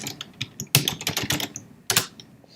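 Quick bursts of keystrokes on a computer keyboard as commands are typed to move between folders on a Raspberry Pi, irregular clicks with a denser flurry and a final cluster of taps, close and clear with no talking.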